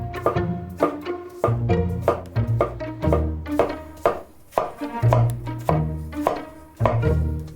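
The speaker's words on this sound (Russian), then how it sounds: "Режем каждый огурчик на 4 части." A knife chops cucumbers into quarters on a board for okroshka, a cold Russian soup, in rapid rhythmic strikes, close and clear, with no talking.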